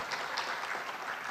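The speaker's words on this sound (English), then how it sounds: "Let us give a warm applause to our host" Applause from the audience at the official handover ceremony closing the 2025 International Mayors Forum in Toyota City, a brief burst of many hands clapping, dense and moderately loud.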